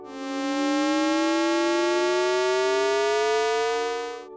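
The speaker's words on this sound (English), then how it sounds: "none of the harmonics are integer multiples of one another, and the result sounds weird. Really, really weird. Strangely electronic and eerie." A tone run through a GarageBand ring shifter effect, its frequency shift pushing the harmonics out of integer ratios, sounds as a steady, sustained and eerie electronic drone of inharmonic partials that slowly glides across about four seconds at even loudness.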